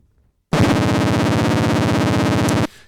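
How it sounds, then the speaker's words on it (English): A UDO Super 6 synthesizer with its LFO switched to HF mode gives a loud, buzzing, fast-warbling siren tone that starts abruptly, holds steady for about two seconds, then cuts off. "That's a fast siren."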